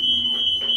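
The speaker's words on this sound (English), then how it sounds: "The smoke alarm is going off." A kitchen smoke alarm blares a continuous piercing high-pitched tone, loud and steady throughout.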